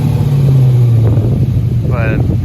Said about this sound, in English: But it does sound nice. Must be an LS motor.